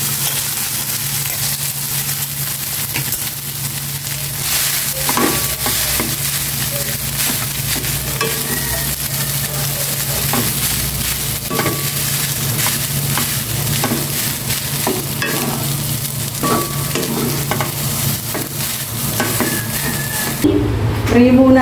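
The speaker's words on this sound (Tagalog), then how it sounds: "Ginigisa ko na itong bawang. Magsasangag naman na." Rice stir-fried with sautéed garlic in a home pan, a loud continuous sizzle with scraping spatula strokes and clatter throughout, a low hum underneath and faint voices at times.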